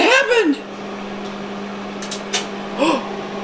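A microwave oven heating an egg, running with a steady low hum throughout, while a voice and an adult speak over it near the start and end.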